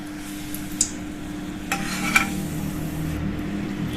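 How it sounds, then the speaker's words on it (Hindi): Besan-coated masala peanuts sizzling in hot oil, a steady soft frying hiss with a few light clinks and stirring taps of a utensil against the pan. "अब हम इसको तलना शुरू करेंगे। देखिए, तेल हमारा गर्म है।"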